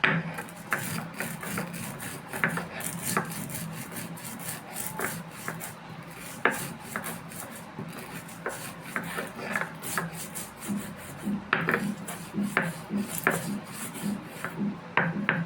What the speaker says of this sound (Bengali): এখন এটাকে আমি বেটে নিয়ে খোসাগুলো এর মধ্যে দিয়ে বেটে নেব। এটাকে আগে বেটে নিচ্ছি।